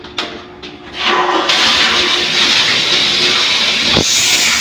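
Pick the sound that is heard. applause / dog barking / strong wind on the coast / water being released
water being released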